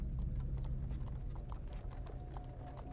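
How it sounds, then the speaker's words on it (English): Horse hooves clip-clop at a steady trot pulling a cart in the fantasy card game Hand of Fate 2, a rhythmic clatter of evenly spaced hoofbeats over a low rumbling backdrop. "You catch them frantically loading a relic onto the horse and cart."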